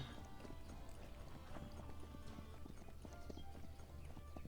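Rapid clip-clop of horse hooves trotting, steady and fairly close, layered over a dense Cossacks 3 game soundscape with low rumbling music.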